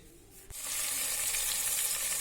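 Chopped tomato and onion hit hot oil in a pot for a tadka, setting off a sudden loud, steady sizzle that continues close up without any talking.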